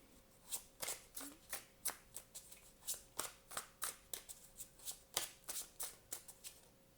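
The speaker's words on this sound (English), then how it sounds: "Let's do another shuffle." Tarot cards are shuffled in quick, rhythmic riffles, a steady series of soft slapping bursts close up with no talking.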